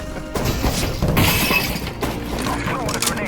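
A flashbang grenade goes off in the game CS:GO as a harsh, bright burst of noise. Loud crackling game sounds and voices come in quick bursts around it.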